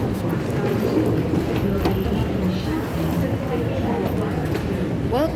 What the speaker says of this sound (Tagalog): We're riding the train.